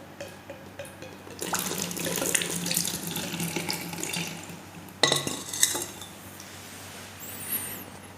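Tap water pours into a sample bottle at a water-quality laboratory bench and runs over the brim, a close steady splashing that swells and briefly surges, with faint clinks of glassware.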